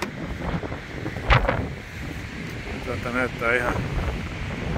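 Wind buffets the microphone outdoors in a steady gusty rumble, while a person talks over it.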